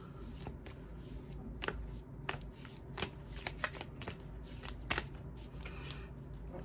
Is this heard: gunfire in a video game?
no